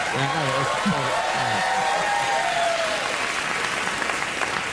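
Studio audience applause carries on as a continuous wash of clapping while someone talks over the start, his voice fading as the clapping continues.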